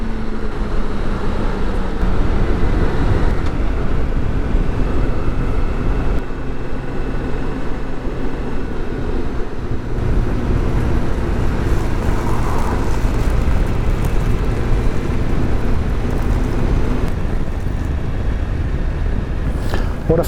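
A BMW K1600 GT SE six-cylinder touring motorcycle on the move, its engine and rushing wind blending into a loud, continuous low roar that holds steady throughout.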